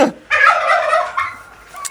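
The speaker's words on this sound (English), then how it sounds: "That's a little cockerel, little rooster." A young cockerel lets out a close, loud, rough crowing call with a scratchy, wavering tone that breaks off near the end.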